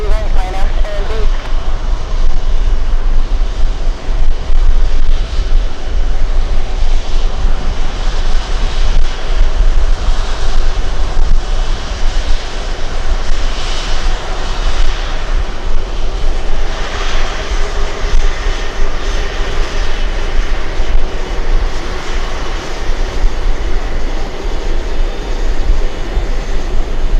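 A jet airliner takes off from runway 13 right, a loud, continuous roar of engines at full power with a deep rumble throughout, while a voice is faintly present in the background.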